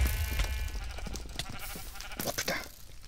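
Sheep bleat in a Minecraft Sheep Wars match on the Epikube server, several short game bleats scattered over busy gameplay noise, with no talk.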